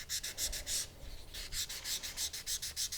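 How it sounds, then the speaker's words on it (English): Soft sanding sponges rub the surface of a copper clay cuff in steady back-and-forth strokes, a close, rhythmic, quiet hiss with a short pause partway through and no voice. "I'm going to move on to using the sanding sponges to clean up the surface."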